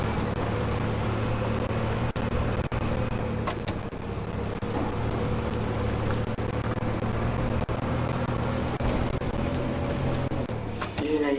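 A car engine in a video game drones steadily and loud throughout, a constant low hum broken by a few sharp clicks and taps.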